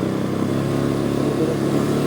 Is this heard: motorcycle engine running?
yes